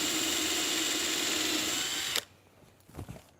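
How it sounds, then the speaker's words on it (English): Step drill bit boring through a rear column, a loud, steady high-pitched whir that cuts off abruptly after about two seconds, followed by a couple of faint clunks. "With these step drill bits, sometimes you have to drill it out on both sides."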